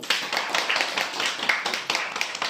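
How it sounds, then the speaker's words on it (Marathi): A small group claps hands in welcome at the start of a lucky-draw event, a brisk irregular patter of close applause lasting a couple of seconds. "स्वतःचं स्वागत करून टाळ्या वाजवू"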